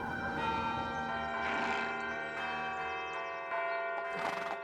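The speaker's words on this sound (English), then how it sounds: "Major Pitcairn, what do you make of all these bells?" Several church bells ring together across a colonial town green, their overlapping tolls sustained and fairly distant, with a faint horse sound beneath and no talk.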